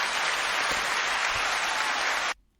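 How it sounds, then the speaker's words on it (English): Applause from a live audience, a dense steady wash of clapping that carries at full strength for about two seconds, then cuts off abruptly into near silence. "Wait, let's clap."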